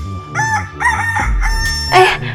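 A cartoon rooster crows in a few quick, loud, strained bursts, close up and alone.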